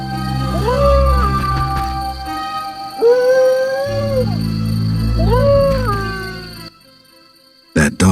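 Dog in The Witcher video game howling in three long, mournful, rising-and-falling calls over a low ambient game drone, loud and close, ending in quiet with a couple of sharp clicks.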